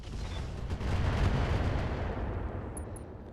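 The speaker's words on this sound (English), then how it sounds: "Okay, let's take a shot. Firing on target." Mech weapons fire in the video game RogueTech, a BattleTech mod, as a dense rumbling barrage of blasts and booms that swells and then slowly tails off, with faint high electronic blips near the end.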